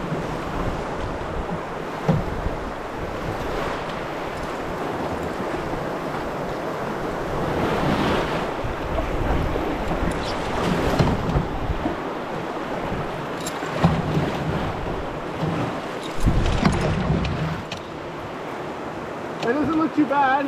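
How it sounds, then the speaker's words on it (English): Class 3 whitewater at Gorge Rapids on a wild river, a continuous loud roar of rushing water with wind buffeting the microphone, and a voice talking at times over it. "This is Gorge Rapids, class 3."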